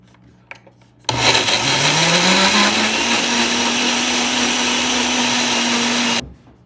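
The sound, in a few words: blender mixing mandarin orange dressing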